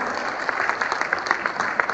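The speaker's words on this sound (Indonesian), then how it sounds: "sekali lagi beri tepuk tangan yang paling meriah untuk ketiga pembicara kita" Applause from a seminar audience for three speakers, steady dense clapping throughout, close and fairly loud.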